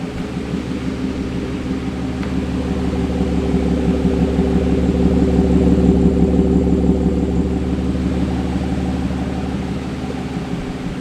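BMW M4 GTS with an S55 engine and a Dinan muffler, its exhaust giving off a steady, loud, low rumble that swells slightly in the middle and holds throughout with no talking.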